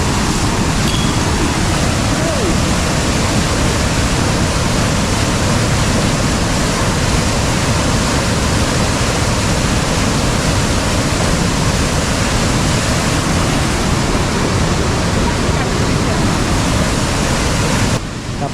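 Monsoon floodwater in a river in Konkan rushes past in a loud, steady, unbroken roar after sudden heavy rain, close and continuous for the whole stretch with no voices over it.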